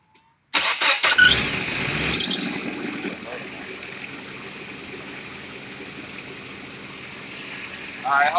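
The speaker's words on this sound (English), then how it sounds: "All right, so you crank it up for me right now" A Nissan Frontier engine cranks briefly and catches, bursting into a loud rev that settles to a steady idle, recorded up close, with a voice briefly heard near the end.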